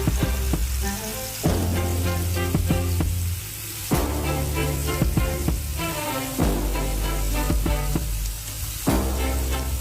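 Chicken pieces sizzle loudly while frying in a pan for a creamy linguine pasta, a dense continuous crackle broken by clattering turns and scrapes, close up with no voices.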